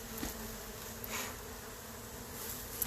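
Honey bees hum steadily around a backyard hive, a soft continuous drone with no voices, rising slightly in a few brief swells as individual bees pass nearer.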